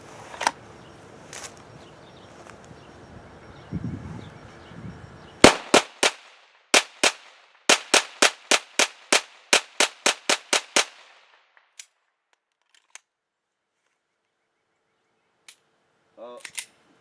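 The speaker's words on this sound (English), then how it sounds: "Now we're going to do some really rapid fire." Rapid strings of 9mm Luger +P pistol shots, fired with Speer Gold Dot 124-grain hollow-point rounds, ring out as a fast burst of about a dozen loud cracks, followed by a few scattered single shots and quieter handling noises.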